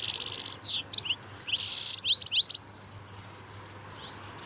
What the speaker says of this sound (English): Oh, look at the parrots.